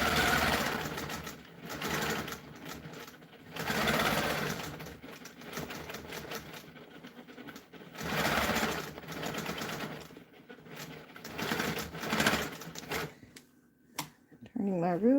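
A sewing machine stitches a continuous quilt border guided by a ruler, running in several steady multi-second bursts separated by short pauses, with a brief pause and a separate faint sound near the end.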